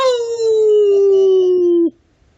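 A man imitates a hound dog's howl with his voice: one loud, sustained howl that slides slowly downward in pitch for almost two seconds, then cuts off into silence.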